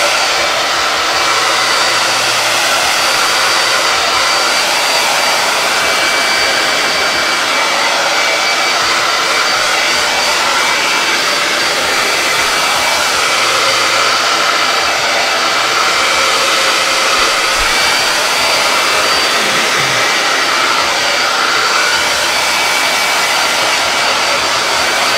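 Hair dryer drying chalk paste on DIY botanical flower wall decor, a loud steady blowing roar that runs unbroken for the whole span with no talking.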